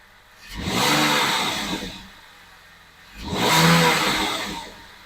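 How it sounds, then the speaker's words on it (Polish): A BMW M54B30 inline-six running on petrol after being switched over from gas, heard as two separate swells of engine noise that rise and fall, each lasting about two seconds, close by. "Jak przełączymy na benzynę, chwilę pochodzi, niech tam ten gaz przepali."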